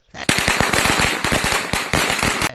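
Diwali firecrackers going off in a rapid string of sharp bangs, loud and close, crackling continuously like a chain of crackers for over two seconds.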